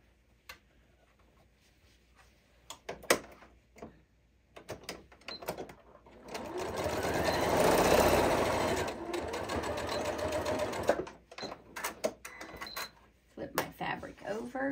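A home sewing machine stitches a reversible, microwave-safe fabric bowl cozy in one steady run of several seconds, with handling clicks and taps before and after and brief speech in the room.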